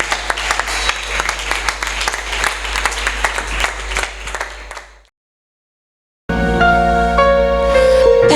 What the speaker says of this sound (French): Acclamons, acclamons, acclamons, acclamons le Seigneur.